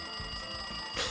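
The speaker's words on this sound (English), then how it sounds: "Jeez, it's so noisy. It looks like like that phone is ringing." A telephone rings in the video game Danganronpa 2, a quiet repeated ringing over a soft game background that swells briefly near the end.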